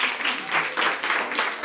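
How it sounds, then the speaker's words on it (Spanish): An audience at a children's murga carnival performance claps in a dense, pulsing burst of applause, loud and close, with a slight swell and dip in intensity. "¡Un aplauso!"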